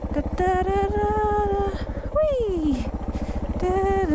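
An off-road motorcycle rides through Belanglo State Forest on a wet morning. Its engine drones with a rapid throbbing pulse, holding steady and then dipping in a falling rev near the middle, while a voice talks over it.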